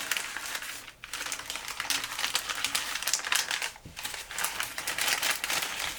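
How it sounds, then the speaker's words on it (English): A paper saliva test form is slid into the back pocket of a mailing envelope, a steady close rustle and crinkle of paper over several seconds with brief pauses. "We're now going to slide this into the back part of the envelope."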